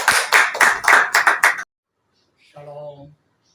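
An audience claps to welcome a preacher at a church service, a burst of loud, rapid applause lasting over a second that stops abruptly, followed by silence and a short tonal chime.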